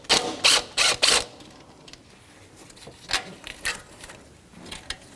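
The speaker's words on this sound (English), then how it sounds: "a 10mm socket to remove the power cord from the battery" A ratchet with a 10mm socket loosens the battery cable nut, giving four quick bursts of ratcheting clicks, then a few scattered clicks and handling taps, close and fairly crisp.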